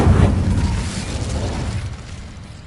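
Incendio fire spell cast in Hogwarts Legacy, a loud whooshing burst of flame that swells at once and then fades over a couple of seconds, heard alone.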